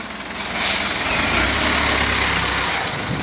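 A truck engine rumbles steadily at low pitch, idling and shifting slightly as it maneuvers, close and continuous with no one talking.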